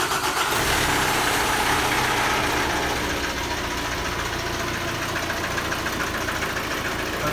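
A car engine turns over and settles into a steady, continuous idle right after a timing chain replacement, running loud and close throughout with no talking.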